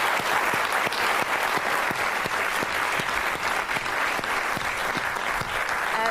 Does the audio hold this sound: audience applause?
yes